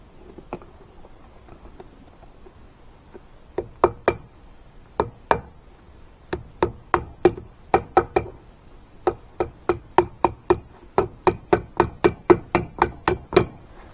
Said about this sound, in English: I'll just tap it out the pattern with the hammer